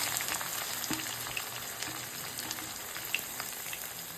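Chopped onions frying in a hot tempering of spices in a pan, a steady soft crackling sizzle with scattered pops, close and without voices.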